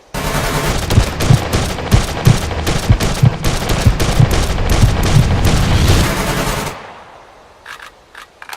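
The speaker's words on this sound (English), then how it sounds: "The second example shows how well a character can control the recoil of the rifle, depending on his strength." Loud rapid automatic rifle fire from the open-world survival game SCUM, a sustained burst of close shots lasting about six seconds before cutting off to a few faint clicks.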